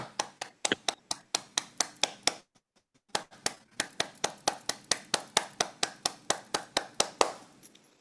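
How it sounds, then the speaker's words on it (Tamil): Rhythmic clapping from a lecture audience in appreciation of a speaker, sharp unison claps in a steady beat with a brief pause near three seconds before the beat resumes. "பாராட்டி ஒரு கைதட்டுங்க"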